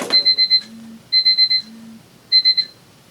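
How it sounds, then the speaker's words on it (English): An electronic alarm beeps in three bursts of rapid four-beep pulses, loud and close, with short low tones between bursts and no talking. "forgot to turn off the alarm"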